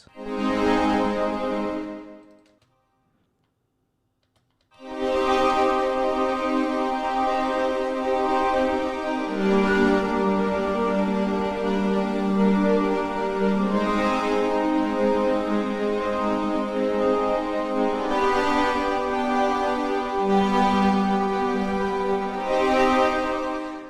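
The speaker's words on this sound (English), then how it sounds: "Just kind of a basic chord progression going on there." Sustained synthesizer chords moving through a slow progression, rich and layered, with a brief silent gap near the start before the chords resume steadily.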